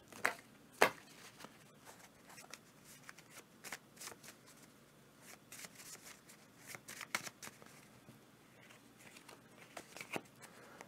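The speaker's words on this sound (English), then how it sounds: "So we're going to do a quick little shuffle here." Board game cards for Ottoman Sunset are shuffled by hand in a series of soft, quick riffles and slaps, close and quiet, with no talking.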